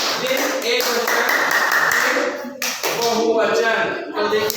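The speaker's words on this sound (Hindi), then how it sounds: "तालियां बजाइए।" An eighth-grade class claps hands in a dense burst of applause for a couple of seconds. A teacher's voice is heard around it in the classroom.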